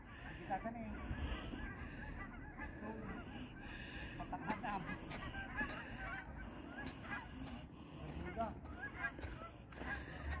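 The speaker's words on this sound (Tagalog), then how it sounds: "Marami akong naririnig na huni ng mga wild geese." Many wild geese honking and calling in a busy, overlapping chorus, with wind or ambient noise beneath, steady throughout.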